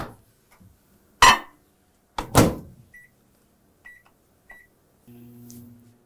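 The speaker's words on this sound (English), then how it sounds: "And this is going to go in the microwave." Microwave oven heating a cup of carrots: a door clunk and slam, then a few short electronic beeps, followed by a low steady hum as it starts running, fairly close in a quiet kitchen.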